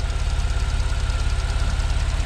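A Porsche 911 Carrera 997.2 with its 3.6 litre direct-injection flat-six idling close by, a steady low rhythmic throb with a faint ticking texture, loud and even, with no speech.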